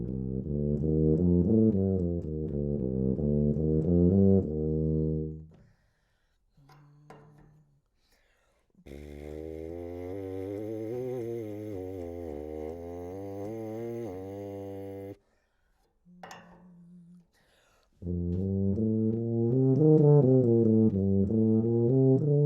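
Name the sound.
brass playing alternating with lip buzzing on a BERP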